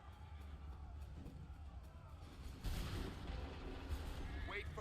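A massed musket volley in Assassin's Creed 3 erupts about midway as a broad burst of distant gunfire over a low crowd-like rumble of battle, preceded by quieter ambient noise.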